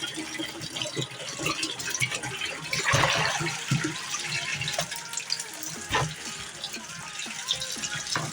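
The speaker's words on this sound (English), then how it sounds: "So I'll just wash it again." Tap water runs steadily while food is rinsed under it for beef bulalo, a close splashing and gurgling flow with some fluctuating bursts, no talking.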